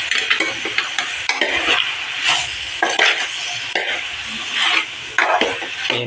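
Beef frying in a pan with curry leaves, a continuous loud sizzle broken by repeated scraping stirs of the spatula against the pan, close up with no talk.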